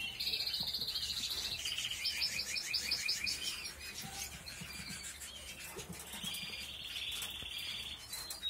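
Busy, high-pitched peeping from many young pigeon squabs, rapid overlapping chirps running steadily throughout with no voices.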